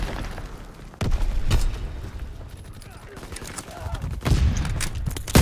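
Heavy, booming shotgun blasts from a WW2 shooter game, two or three loud shots spaced a few seconds apart over a rumbling battlefield background.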